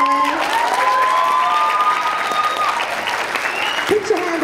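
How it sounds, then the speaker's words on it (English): A convention crowd at an anime festival closing ceremony applauds its co-chair, a dense wash of clapping and some cheering, while an amplified voice talks over the top and a brief louder burst comes near the end. "Can we get a round of applause for Will,"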